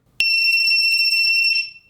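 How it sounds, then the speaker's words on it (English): An active buzzer on an ESP32 intruder deterrent board sounds one loud, shrill, continuous electronic beep. It lasts about a second and a half and then cuts off, heard alone and up close. "Okay, active buzzer."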